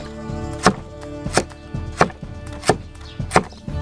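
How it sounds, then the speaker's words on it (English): A knife chops through a carrot on a board in a village kitchen, five sharp, evenly spaced thwacks about two-thirds of a second apart, close and distinct with quiet pauses between. "Now you just have to cut the carrot."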